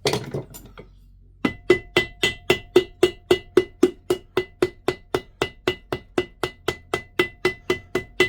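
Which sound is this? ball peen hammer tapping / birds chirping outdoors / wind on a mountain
ball peen hammer tapping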